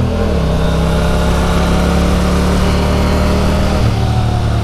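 A sport motorcycle fitted with an Akrapovic exhaust runs loud and close, its engine note holding steady with a slight rise and a shift in pitch near the end.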